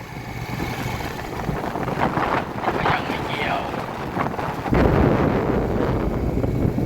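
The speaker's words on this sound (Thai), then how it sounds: "ลมแรงมาก" Strong wind roars and buffets the microphone outdoors in a steady, rough rush that swells louder toward the end.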